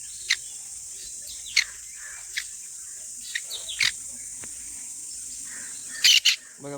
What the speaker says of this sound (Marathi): बघा मंडळी कशी आवाज येते बघा पक्ष्यांना